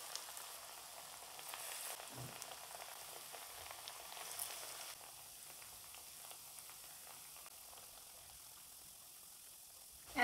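Lentil fritters (dal bora) frying in hot oil over medium heat, giving a steady soft sizzle and crackle throughout, moderately quiet with no talking.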